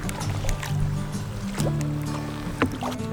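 Kayak paddling in a bay at Ketchikan, Alaska, with soft water splashes and paddle strokes close by over a steady low hum, a few sharper drips and knocks standing out.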